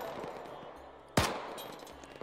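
A single sharp rifle shot cracks out close and loud in Arma 3 combat on a freeway, ringing off into a short echo against low ambient hum, with faint background chatter.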